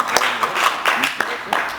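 Scattered claps from an audience at a church association's general meeting in a hotel, heard as a handful of separate sharp hits under a man's ongoing speech.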